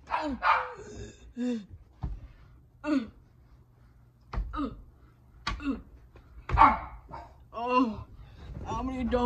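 A dog barks repeatedly in short, sharp bursts at close range, spaced irregularly across the stretch, with occasional gasps and sighs from a person between barks.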